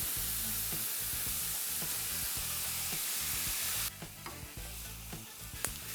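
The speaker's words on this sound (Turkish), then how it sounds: "Önce susuz, yağsız, soğansız güzelce kavuruyorum." Minced meat browns in a dry pan with no oil or onion, giving a loud, steady sizzle that eases partway through into softer crackling and scraping stirs, close up with no talk.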